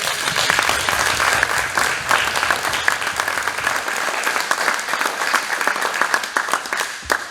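An audience gives the Mulberry Project a sustained round of applause, a dense wash of many hands clapping at an even level throughout.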